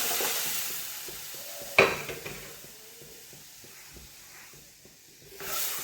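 Dal being stirred in a pot, a soft hiss with a sharp clink of a utensil near the start, then quiet scraping that fades before the hiss swells again.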